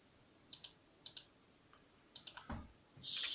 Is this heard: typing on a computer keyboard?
yes